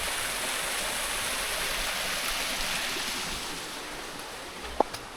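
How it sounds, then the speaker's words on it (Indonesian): On a forest trail up Mount Papandayan, a waterfall and mountain stream rush in a steady, even wash of water noise, moderately distant and unbroken, with one brief click near the end. "air terjun."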